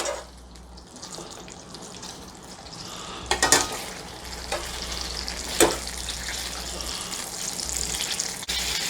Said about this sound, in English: put it right into the hot butter